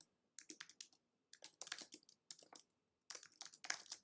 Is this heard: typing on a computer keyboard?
yes